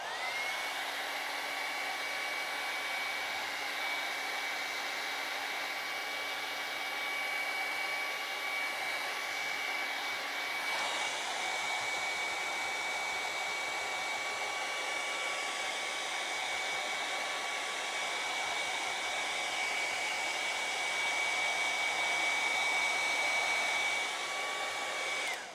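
Hair dryer blowing continuously on a colored pencil and pan pastel drawing, a steady close whooshing roar that shifts slightly in tone partway through and runs alone without talk.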